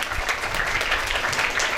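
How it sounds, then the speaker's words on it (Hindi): A church congregation claps for Jesus Christ at a worship service in Green Town, Lahore, producing a dense, steady patter of many hands for a couple of seconds. "जोरदार तालियां बजाइए।"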